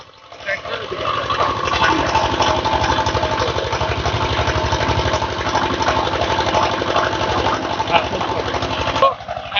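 A small engine-driven pump sprayer running steadily while insecticide is sprayed onto mango trees, a close, loud chugging drone with a rapid even pulse that holds for the whole stretch, with a voice talking over it.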